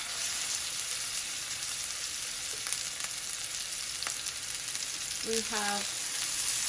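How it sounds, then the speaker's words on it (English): Salted and peppered pork sizzles in hot oil in a pan, giving a steady, close crackling fry with brief clinks of utensils and a few spoken words near the end. "The oil is hot and the pan is ready to cook our pork"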